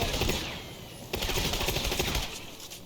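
A five-barrel gun in Fortnite fires rapid, crackling dense bursts, with one stretch of shots hammering away quickly and fairly loudly, with no talking.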